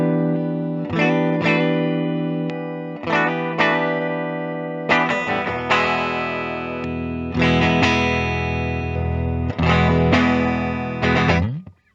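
Gibson Les Paul Special electric guitar on its clean setting, a series of ringing chords struck one after another and left to sustain and decay, played alone with no voices.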